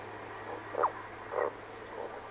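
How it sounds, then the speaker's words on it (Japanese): Frogs along a mountain hiking trail on Mount Takao give three spaced croaks over quiet outdoor ambience, moderately distant and alone without speech. "何この声、カエル？"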